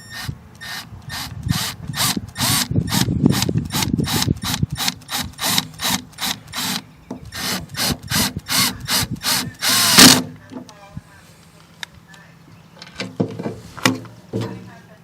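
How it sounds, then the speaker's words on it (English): A power drill drives a self-drilling screw into a PTO gearbox front seal, giving a rapid series of sharp clicking bursts that stop about two-thirds through, followed by a few quieter clicks. "I'm going to run a self-drilling screw into the seal."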